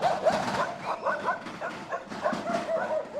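Dogs in a town street yelp, bark and whimper in a busy overlapping cluster, the calls fairly close and continuous throughout, with no speech over them.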